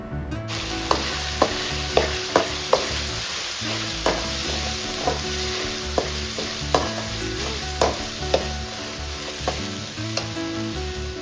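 Onion and tomato masala with turmeric, for a drumstick chicken curry, fries with a constant sizzle while a spoon knocks against the pan in regular taps, roughly one per second.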